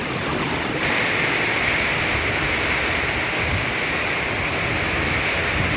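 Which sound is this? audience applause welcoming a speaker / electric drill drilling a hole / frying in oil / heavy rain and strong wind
heavy rain and strong wind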